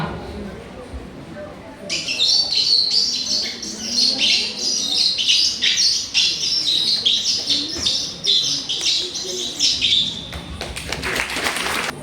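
A performer imitates sparrows with a burst of rapid, high twittering chirps that runs for about eight seconds in a mimicry show before an audience, then cuts off into a few sharp taps.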